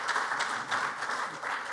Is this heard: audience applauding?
yes